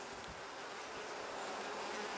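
Honey bees hum in a dense, continuous buzz around an open hive, close and steady throughout with no voices.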